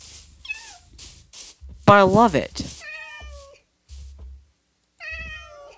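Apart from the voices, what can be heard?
cat meowing in Minecraft video game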